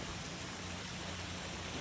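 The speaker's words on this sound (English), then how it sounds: "It's pissing down rain." Heavy rain pouring down during a storm, a dense, steady hiss of broadband noise that stays constant and close for the whole moment with no voices.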